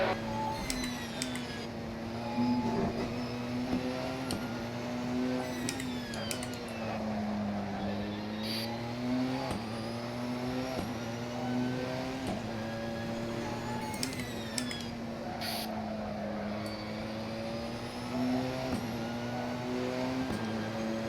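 Race car engines in a mixed multiclass sim race at Brands Hatch whine steadily, rising and falling in pitch through gear changes over about twenty seconds at moderate level, with no talking.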